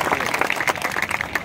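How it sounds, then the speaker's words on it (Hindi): An audience at a kavi sammelan at the Mungeli trade fair breaks into brief, lively applause, with dense clapping close by. "एक बार जोर से आप ताली बजा दीजिए"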